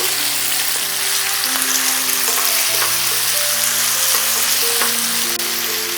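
Chicken with ginger garlic paste sizzles loudly and steadily as it sautés in a pan, with faint scraping stirs mixed into the constant close frying hiss and no voices.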